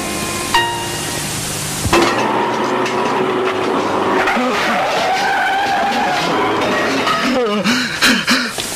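A car skids with long squealing tyres and roaring engine noise, ending in a run of sharp impacts and rattles that suggest a crash, all close and loud without speech.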